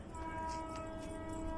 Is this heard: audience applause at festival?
no